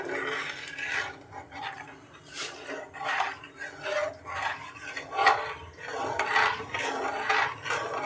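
Batter being stirred steadily in a pot, a spoon scraping and rubbing against the sides in repeated strokes, with occasional clinks of metal, close and moderately loud without talk.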